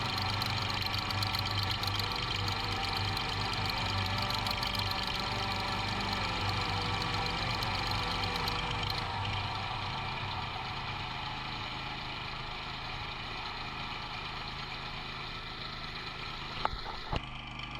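A pressure washer runs with a rotating high-flow pipe-cleaning nozzle on a long hose, leaking at the gap of the rotating body, giving a constant loud droning motor hum with a steady hiss, softening slightly partway through.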